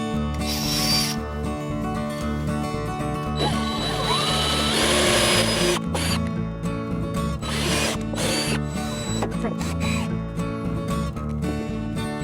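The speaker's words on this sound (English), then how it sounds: "we're going to use is a drill first to pre-drill pilot holes" A power drill whirs in several short bursts while pre-drilling pilot holes, with brief pauses and scraping between them, close and fairly loud.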